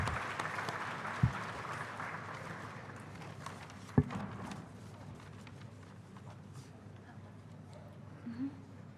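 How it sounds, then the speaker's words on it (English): A crowd claps steadily at a university freshers' induction program, in a broad, even wash of applause, fading slightly toward the end, with a couple of sharp thumps along the way. "Please have a round of applause."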